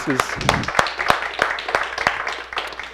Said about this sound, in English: I'm going to give you all a big hand of applause